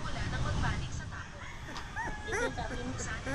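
A puppy gives high yips and thin whimpers, mixed through close conversation in the room.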